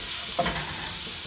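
Onions added to a hot pan with garlic powder for a cabbage bhaji, meant to soften and turn slightly yellow rather than brown; a steady close sizzle with a brief stir or clatter near the start, no talking.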